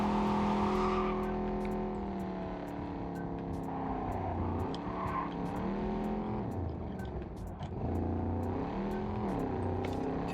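A nomad car driven in the video game Cyberpunk 2077, its engine droning loudly and steadily with rising and falling revs as it accelerates, a brief tire squeal, close and continuous without talk.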